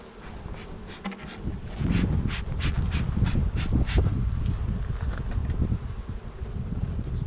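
Honey bees hum in a low, continuous drone at an open backyard hive during an inspection. The buzzing is close and thickens after the first couple of seconds, with light wind rustle around it.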